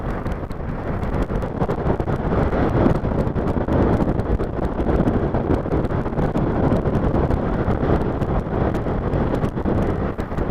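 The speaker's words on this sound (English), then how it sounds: "at 60 miles per hour, completely tame, the wind isn't bad" Steady, loud wind rush buffeting the microphone while riding a 2020 Honda CB500F motorcycle at around 60 miles per hour, a continuous broadband roar with no talking.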